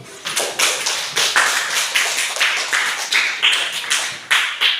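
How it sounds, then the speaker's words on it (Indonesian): A group clapping in a brisk rhythm, a dozen or so sharp claps in quick succession, loud and close with a slight room echo. "Iya, kasih tepuk tangan itu."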